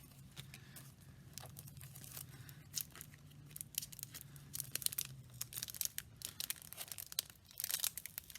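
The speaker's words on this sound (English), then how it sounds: "I'm totally ripping this open." A paper postcard package from a watercolor art subscription box being torn open by hand, with close, irregular bursts of ripping and crinkling paper that grow louder toward the end.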